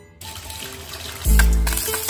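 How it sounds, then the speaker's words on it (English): Water pouring and trickling out of a boiler during a low water cutoff probe test, a steady splashing flow that surges louder midway and stays close. "water's running out pretty good"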